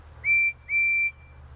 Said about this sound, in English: No, that was a whistle. Percy's whistle.